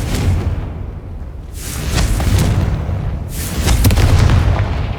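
Confringo, a fire spell in Hogwarts Legacy, sets off repeated booming explosions, loud rolling blasts that swell and fade in waves with no talk over them.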